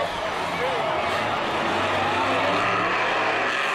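Monster trucks Dragon and Max D race side by side at a Monster Jam championship final, engines roaring loud and steady beneath a commentator's voice and a stadium crowd.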